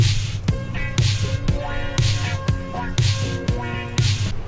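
Retro snare drum sample cracking in a steady backbeat over a thumping house kick and looping funk chords, bright, close and evenly spaced.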